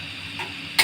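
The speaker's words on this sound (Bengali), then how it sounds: "আর এদিক দিয়ে দেখছেন করলাগুলো ভাজি করতেছি" Sliced bitter gourd (karela) frying uncovered in a pan, a steady sizzle with light stirring scrapes and a louder burst of crackle near the end.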